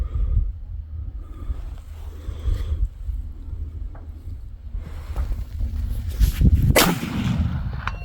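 A lever-action rifle, a Winchester 1866 or Marlin 1895 SBL with iron sights, fires at a target 230 yards out, a single sharp report late in the clip over steady wind-like outdoor rumble.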